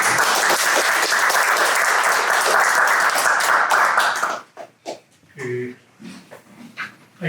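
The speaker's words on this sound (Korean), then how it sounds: "박수." Audience applause for a lecturer at a peace lecture series in Korea, a loud, steady burst of clapping for about four seconds that stops abruptly, followed by scattered soft sounds and breathing.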